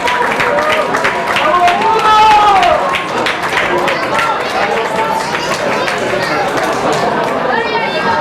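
Rugby crowd at a Gibraltar versus Jamaica match stands and applauds an injured player helped off the pitch, a steady wash of distant clapping and chatter running under continuous commentary.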